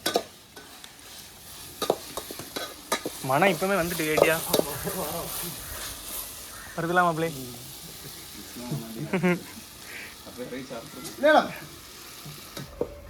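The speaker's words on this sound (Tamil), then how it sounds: "இந்த உள்ளி தக்காளி எல்லாம் நல்லா வசங்கணும்" Onion and tomato sizzle and fry in a pan while being stirred, a steady soft crackle with scraping stir strokes running under casual conversation between several people.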